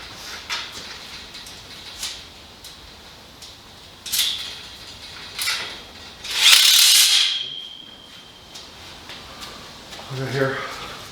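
A power drill tightening bolts on a 15 x 7 x 7 greenhouse frame, several short bursts spaced a few seconds apart, with people talking between them.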